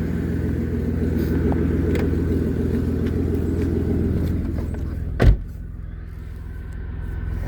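A 2008 Pontiac G6 GT engine idles with a steady low rumble, broken by one brief thump about two-thirds through, after which it settles to a slightly quieter, smoother idle.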